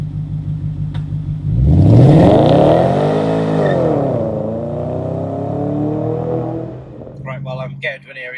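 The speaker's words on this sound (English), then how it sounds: "I can rev this out a bit" A high-mileage V8 car engine revs up hard from idle, rising to a loud sustained roar that holds and slowly falls back, with a voice briefly speaking near the end.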